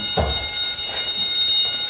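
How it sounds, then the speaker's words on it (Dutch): A school fire alarm goes off during break, a steady electronic buzzing tone sounding continuously under faint background noise. "De brandalarm ging af in de pauze"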